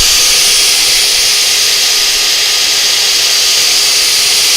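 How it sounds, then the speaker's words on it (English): A drill fitted with a sanding pad power-sands a spinning wooden bowl on a lathe, making a loud, continuous high whirring and hissing drone that holds steady throughout. "And what I find is with the drill going that way and the bowl going that way, that's it being effective."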